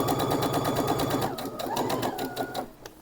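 A domestic sewing machine runs a test seam on trouser fabric, a loud steady rapid stitching whir that slows and stops near the end.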